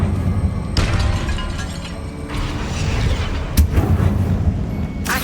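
A Confringo blasting spell in Hogwarts Legacy goes off inside a tomb, giving a sharp crack and a rumbling, shattering boom, followed by further loud bursts and debris clatter over several seconds.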